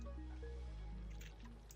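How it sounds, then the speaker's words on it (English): Soft water drips in the video game Oxygen Not Included, faint plinking droplets over a low, steady game-audio background, with no voices. "Water is dripping down."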